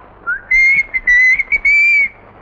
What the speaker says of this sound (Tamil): நீ விசில் அடிக்கிற